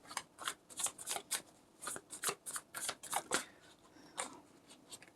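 Tarot cards being shuffled and handled up close, a quick run of crisp riffling bursts with short pauses between, quiet and alone with no talking.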